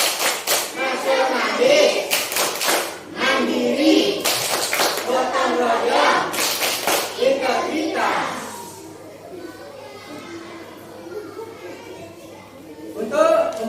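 Primary-school children in a classroom chant together and clap in rhythmic groups, sharp bursts of hand claps punctuating their loud unison voices before the chanting trails off into quieter talk.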